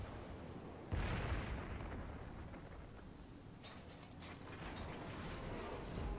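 Naval guns of a Montana battleship fire blind in World of Warships, one heavy booming salvo followed by a long rumbling tail, then several fainter sharp cracks in the distance.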